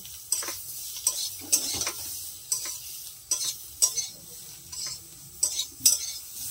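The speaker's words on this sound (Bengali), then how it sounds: "বৌদিভাই আগে আনাজটাকে সুন্দর করে কষিয়ে নিচ্ছে, সুন্দর করে কষিয়ে নিচ্ছে।" Vegetables for a Bengali fish curry with elephant foot yam sauté in a pan, a soft steady sizzle broken by about a dozen sharp spatula scrapes and clinks in an uneven rhythm, close and alone.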